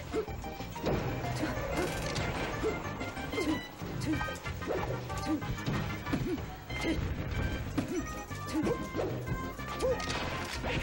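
Super Smash Bros. Melee hits, including a Falco versus Sheik dash attack, land as repeated crunchy smacks and thwacks within a dense, continuous wash of game noise and crowd din at a tournament.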